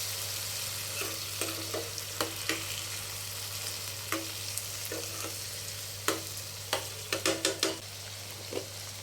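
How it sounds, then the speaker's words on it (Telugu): Finely chopped tomatoes fry in a pan for a quick tomato curry, with a steady sizzle under a constant low hum and a scatter of sharp clicks and scrapes from stirring, clustered near the end. "ఓ నాలుగు టమాటాలు సన్నగా ముక్కలు చేసుకుని దాంట్లో వేసుకున్నాం"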